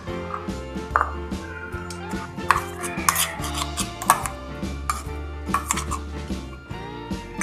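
Raw mango being crushed in a bowl for garlic mango pickle gives sharp knocks and metallic clinks at irregular intervals, close and distinct over steady background music.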